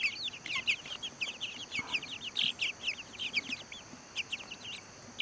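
Baby chicks feeding on feed scattered on the ground give soft, rapid clucks and peeps in quick overlapping bursts, fairly faint and close, with no voices.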